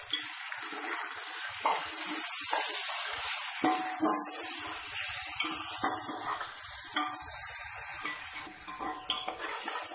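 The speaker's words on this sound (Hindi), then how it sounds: "एक मिनट चनों को और ऑयल में फ्राई करने के बाद" Chickpeas frying in hot oil with browned onions for chana pulao, a steady close sizzle with intermittent stirring scrapes and clinks of a spoon against the pot throughout.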